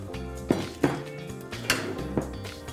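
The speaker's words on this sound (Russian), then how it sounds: "Смажем форму. Выкладываем картошку." Potato slices laid into a buttered baking dish, a few separate knocks and clinks of food and utensil against the dish, spaced unevenly, close and alone without talk.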